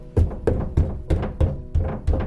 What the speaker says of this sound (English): somebody banging on the door